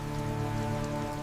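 Steady, dense rainfall hisses evenly under a low sustained hum, continuous and fairly loud throughout, with no voices.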